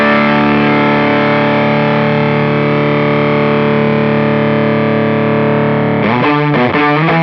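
A Les Paul electric guitar driven through a Charlie Paolo Custom Effects Obsidian fuzz pedal, a loud sustained thick fuzzy chord with heavy low end, followed by a few choppy re-struck chords at the close.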